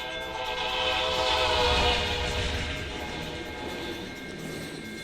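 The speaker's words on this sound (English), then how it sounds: "Blow that horn." An Amtrak train sounds a long, sustained horn blast over the rumble of the passing train, loud and steady throughout.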